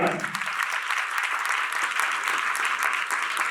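Steady applause from a church congregation during a sermon, dense clapping that holds at an even level throughout with no voices standing out.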